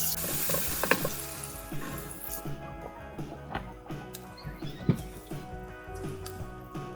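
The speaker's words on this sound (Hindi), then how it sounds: "ऑयल गर्म हो गया है। अब हम जल्दी से इसमें अनियन ऐड कर लेंगे।" Sliced onions sizzling and frying in hot oil for kabab karahi, a steady crackling hiss with occasional stirring taps and scrapes close by.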